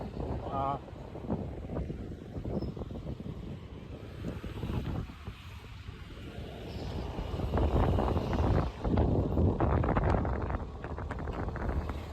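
Wind buffets the microphone in a steady rushing roar while riding an Activa scooter, growing louder toward the end, with a voice talking over it.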